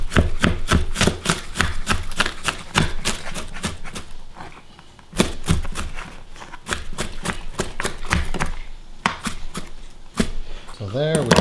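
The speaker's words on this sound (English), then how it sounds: "Slice and chop." Knife repeatedly slicing and chopping garden vegetables on a cutting board for stuffed peppers, a fast steady run of sharp close-up taps with a brief pause midway.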